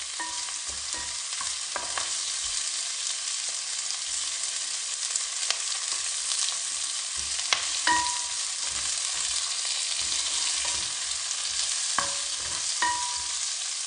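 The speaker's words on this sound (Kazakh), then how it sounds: "Мінекей қуырып алдық." Food fries in a pan for a salad with a continuous, even sizzle, while sharp clicks and scrapes from stirring recur throughout; no voices are heard.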